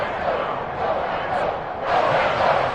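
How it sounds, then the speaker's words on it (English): Football stadium crowd applauding and cheering for the defense after a stop that forces a 4th down, a steady broad roar that swells louder toward the end. "How about some applause for the defense there?"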